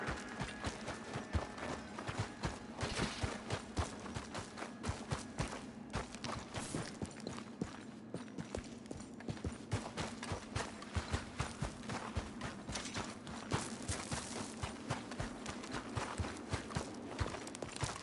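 Horse hooves walking in the video game Red Dead Redemption 2, a steady clip-clop of repeated footfalls over a continuous low ambient hum, with no voices.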